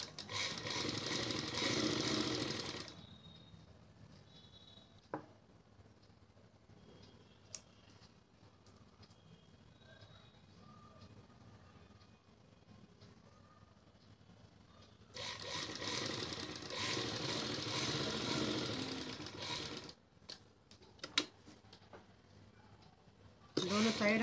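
A sewing machine stitches a salwar leg seam in two loud, steady runs of rapid mechanical whirring, separated by a long quiet stretch with a few faint clicks, then a final short burst at the end.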